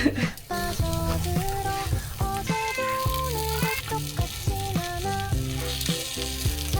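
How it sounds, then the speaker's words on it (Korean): Webfoot octopus stir-fries in butter and garlic in a pan, making a steady crackling sizzle that sits beneath loud music. "이게 버터 갈릭에 한번 쭈꾸미를 볶아서 넣으니까"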